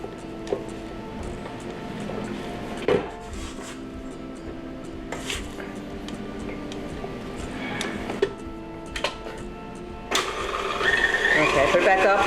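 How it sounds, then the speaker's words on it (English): A KitchenAid stand mixer on setting 4 creams sugar into banana batter for chocolate chip banana muffins, a steady mechanical whir with occasional knocks under a person talking, growing louder near the end. "On a KitchenAid, I use the setting of 4 when I'm doing the creaming and stuff."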